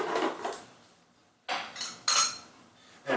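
A big ice cube clunks into a glass for a gin Old Fashioned-style cocktail, a few sharp, close clinks and knocks with short gaps between them.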